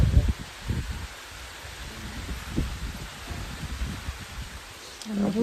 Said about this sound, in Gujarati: પવન ને સાટા બે ચાલુ છે